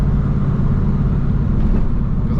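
Deep, steady engine rumble from a modified 1997 Camaro Z28 fills the cabin during downshifts, loud and continuous with low-frequency drone and no talking.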